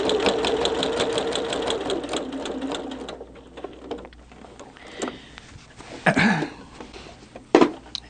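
Machine quilting on a Christmas tree quilt: a sewing machine hammers rapidly and loudly for about three seconds, then stops, leaving a few soft shuffles and taps of fabric being moved.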